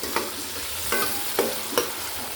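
Food browning in hot oil in a restaurant kitchen, a continuous sizzle close up, broken by four sharp scraping stirs spaced roughly half a second apart.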